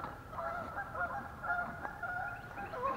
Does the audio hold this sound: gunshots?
no